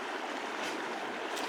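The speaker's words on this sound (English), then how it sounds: "There's the creek." A mountain creek runs steadily in the background on a steep backpacking route, a continuous even rush of water with no talk.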